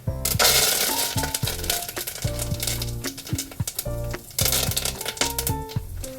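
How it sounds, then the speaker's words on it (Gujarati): Asafoetida and curry leaves crackle and sputter in hot oil with salt, a near, busy run of sharp pops and spits over a steady hiss, with no voices. "તેલ ગરમ થઈ ગયું છે એટલે આપણે હિંગ નાખશું. હિંગ નાખીને લીમડો, મીઠું,"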